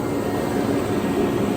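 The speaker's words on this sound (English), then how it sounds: "I got the turbine fired up" A turbine being built into a 1,000 hp race engine for a Winnebago runs loudly and steadily in a cold, windy setting, a dense unbroken roar with a high whine held on top.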